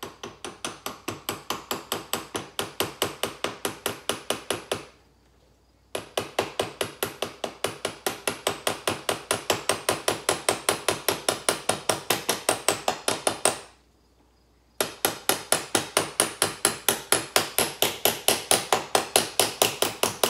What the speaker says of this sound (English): I'm going to take my small hammer and I'm just going to tap